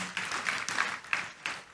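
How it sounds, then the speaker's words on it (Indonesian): A church congregation claps during a sermon, a short burst of applause with a few sharper clap peaks, moderately loud and fading near the end. "Tepuk tangan buat Tuhan kita Yesus"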